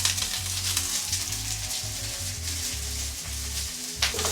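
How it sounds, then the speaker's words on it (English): Garlic, onion, spring onion stems and carrots sizzle in a pan over medium-high heat for soy sauce chow mein, a steady loud crackle with intermittent low clatter of stirring throughout. "And then I'm gonna drop in garlic, onion, and the spring onion stems."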